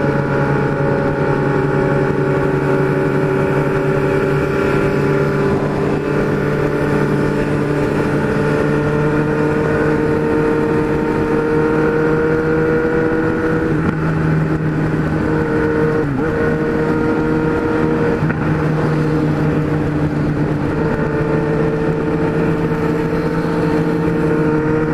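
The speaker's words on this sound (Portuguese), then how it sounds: "Muita moto na pista." Steady engine drone of many motorcycles, including a Z1000, riding on a road to a motorcycle meet, a continuous loud hum with slight rises in pitch as they ride along nearby.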